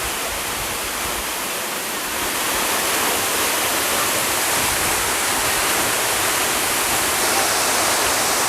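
Nam Tok Saeng Chan waterfall in Thailand, pouring over rock ledges into a pool, gives a loud, dense, unbroken roar of falling water that swells slightly after the first couple of seconds.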